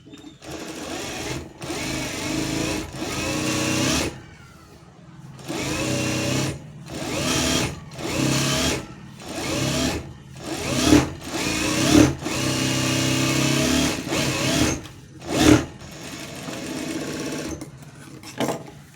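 A sewing machine stitches thread piping onto a blouse in repeated bursts of fast, rattling stitching, broken by short pauses. The machine is close and loud.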